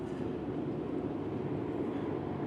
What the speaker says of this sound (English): there is a train that's about to pass by.